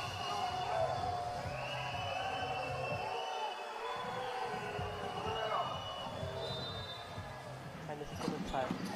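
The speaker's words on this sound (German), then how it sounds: "Jetzt Unruhe beim Publikum." An arena crowd at a Dragons versus Uni Riesen Leipzig basketball game grows restless, a steady murmur of many voices with a ball bouncing under it, while a commentator talks over the noise.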